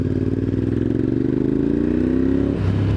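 A new motorcycle accelerates hard in second gear, its engine note climbing steadily and loudly close to the rider before easing off near the end, with no talking.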